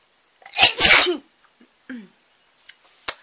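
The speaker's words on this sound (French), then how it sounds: "excusez-moi j'ai envie d'éternuer." A loud sneeze, drawn in then bursting out, followed by a few faint breaths and small clicks in otherwise quiet surroundings.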